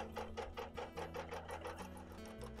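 A domestic sewing machine stitching a Quilt of Valor with a basting stitch, running steadily and fairly close with a fast, even mechanical rhythm throughout, no voices.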